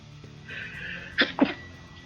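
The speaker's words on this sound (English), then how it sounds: "That was a sneeze." A single sneeze bursts out abruptly during a live development stream, made up of two sharp, close bursts in quick succession that are loud against a quiet room background.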